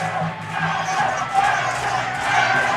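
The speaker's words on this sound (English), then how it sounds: "the volume of the crowd is unbelievable at the moment" A packed crowd of spectators roars and cheers at a combat sports event inside a tavern in Brisbane, a loud continuous din of shouting and whooping coming from all sides.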